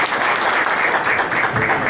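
A crowd applauds the general secretary of the Ayacucho Defense Front at a public swearing-in gathering, the clapping dense, steady and sustained throughout with no voices over it.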